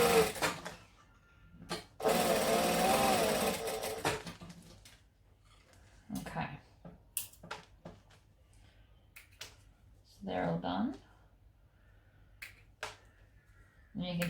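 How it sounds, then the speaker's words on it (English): A sewing machine chain-stitches a string of garment seams in a quiet room, with one loud burst of stitching near the start and shorter, fainter runs later amid small clicks and handling sounds. "And I'm chain stitching them to save time and thread."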